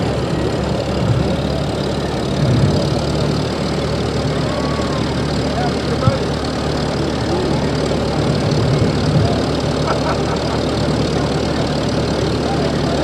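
Antique Minneapolis Moline tractor engine idling at a Memorial Day parade in Oak View, a steady low chugging rumble, close and loud, with crowd noise and voices in the background.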